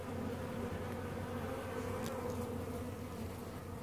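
Honeybees buzz steadily at an open hive on a warm day, a continuous close droning hum at low level with no voices.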